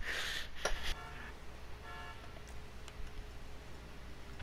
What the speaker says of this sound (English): You honking your damn horn at me?